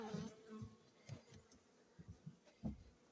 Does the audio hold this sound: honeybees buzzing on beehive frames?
yes